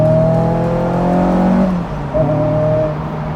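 Rebuilt Honda S2000 exhaust note under acceleration, a loud, close, steady engine drone climbing in pitch, easing off briefly, then pulling again.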